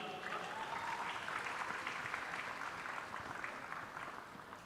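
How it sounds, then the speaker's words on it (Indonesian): Steady audience applause at a foreign-policy conference session in Indonesia, filling the hall evenly for nearly five seconds with no voices over it. "Kita berikan tepuk tangan untuk Mas Abdul Khalik"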